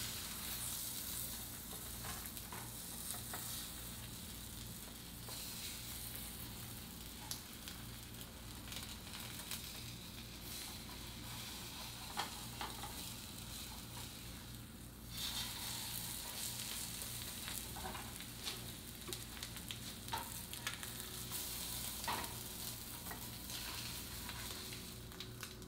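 An egg frying in a pan makes a steady, close sizzle that runs throughout with scattered crackles and a few scraping spatula touches, with no talking.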